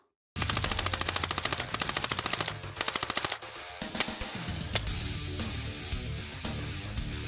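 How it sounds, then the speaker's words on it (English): A minigun fires at a Utah National Guard compound in long, loud, rapid bursts of dense shots, a short break near the middle, then sustained roaring fire with no talking. "Because I'm only small, they've given me the minigun."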